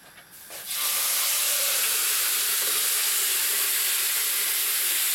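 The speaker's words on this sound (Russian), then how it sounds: "И сейчас мы погрузим ее прямо вот на дно этой самой сковородки." Loud, steady sizzling of a whole chicken for chicken tabaka pressed flat onto a hot oiled pan, a sudden hiss that rises and holds as a constant crackling spatter.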